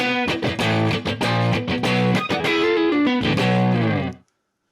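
Electric guitar on a Fractal Axe-FX FM9 with an ambient, room-like reverb: a steady rhythm of loud, distorted strummed chords, each ringing out with added space before cutting to silence at the end.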